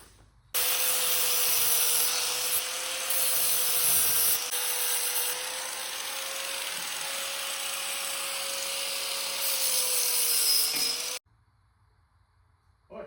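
A power tool grinds a bevel onto the ends of a steel harness bar hoop for a 1994 S10, a steady high whine running unbroken for about ten seconds, close and fairly quiet, with no talking.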